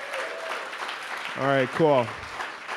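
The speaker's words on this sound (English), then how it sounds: "another round of applause for our demoers and partners" Applause from an event audience runs steadily underneath as a soft, even patter of clapping, while someone talks briefly over it.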